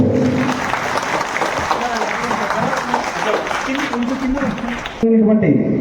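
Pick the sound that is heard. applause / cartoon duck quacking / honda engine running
applause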